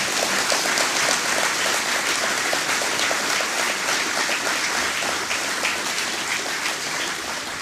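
A crowd at a political gathering gives sustained applause for the people of PT Martinique, Carriacou and Grenada; thick, even clapping from many hands, loud and steady, slowly easing toward the end.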